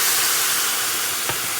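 Saffron sugar ingredient hitting a well-heated frying pan, giving a loud, steady broadband sizzling hiss that fills the short moment, with a faint brief tap near the end.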